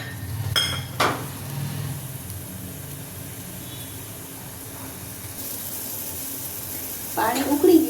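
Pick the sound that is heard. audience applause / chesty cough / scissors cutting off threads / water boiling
water boiling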